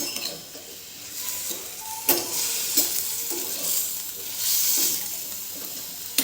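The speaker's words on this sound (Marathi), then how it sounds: "नंतर त्याच कढईमध्ये पनीर पण आपण फ्राय करून घेणार आहोत" Paneer cubes frying with salt in a kadhai, a soft sizzle under repeated stirring and scraping of a spatula against the pan, with a few sharper clinks of metal, close and fairly quiet.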